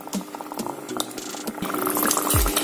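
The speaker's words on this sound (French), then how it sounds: "maintenant je vais mettre l'huile et laisser mijoter encore juste 2 minutes et éteindre le feu" A spicy African-spiced marinade with oil added simmers in a pot, giving a close, steady bubbling and gurgling hiss that thickens toward the end.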